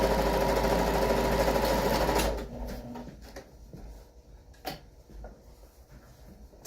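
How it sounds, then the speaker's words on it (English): Sewing machine stitching fabric pieces together for a home decorating project, running loudly and steadily for about two seconds, then stopping, leaving faint rustles and a couple of soft knocks. "I'm going to go ahead and time lapse stitching the fabric pieces together"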